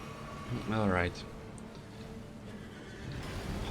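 A horse in the video game Elden Ring gives one brief, wavering whinny near the start, followed by quiet game ambience.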